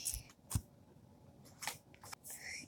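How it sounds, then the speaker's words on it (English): Scissors handled while cutting open a birthday present, with faint snips, clicks and rustles scattered irregularly at close range in a quiet room. "Okay, I got some scissors."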